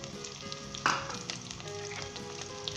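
Chopped onion, garlic and ginger fry together in a pan over a high-medium flame, giving a steady close sizzle with a brief louder burst near the start of the stir.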